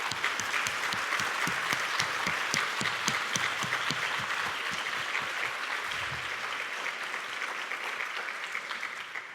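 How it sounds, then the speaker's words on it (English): Applause from a symposium audience at a LISA plenary session thanking the host: a dense, steady crowd clapping that carries on evenly and tapers slightly near the end. "can we have a huge round of applause to thank our host this year?"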